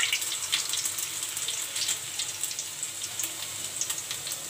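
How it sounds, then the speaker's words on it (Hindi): Cumin seeds and grated ginger sizzling in hot oil while cooking brinjal bharta at home, a steady close hissing crackle throughout with no talk. "तो तेल गरम हो चुका है, तो सबसे पहले हम डालेंगे ज़ीरा, ग्रेट किया हुआ अदरक"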